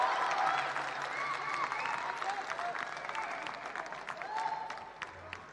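Crowd applause fills a squash finals match at a mall venue in Chennai, a steady close wash of clapping and cheering that holds throughout with small swells.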